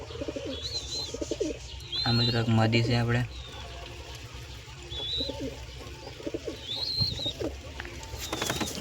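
Pigeons cooing in a loft or coop among newly acquired birds, several soft, low coos and a burst of louder cooing close by, with small chirps around them and someone talking over much of it.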